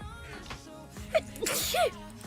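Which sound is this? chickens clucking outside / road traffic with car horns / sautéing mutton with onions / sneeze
sneeze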